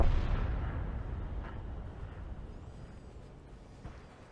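A heavy tank gun fires once in World of Tanks, a loud boom at the start that rolls off into a long decaying rumble, with a faint later thud.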